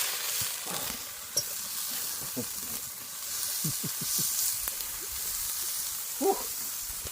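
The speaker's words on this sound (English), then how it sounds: "Listen to the sizzle, listen to the sizzle." Steady crackling sizzle of chicken noodles frying over an open fire pit, with occasional scrapes and clinks of a utensil stirring the pan.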